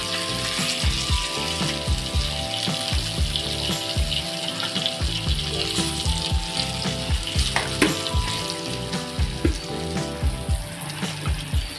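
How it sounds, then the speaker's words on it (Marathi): Pomfret fish shallow-frying in a pan of oil sizzles continuously, a dense crackling hiss broken by frequent sharp pops and spatters, with clinks and scraping of a utensil against the pan, heard close and alone without talk. "अशा प्रकारे आता दुसरी मच्छी आहे ती सुद्धा आपल्याला अशी तळून घ्यायची"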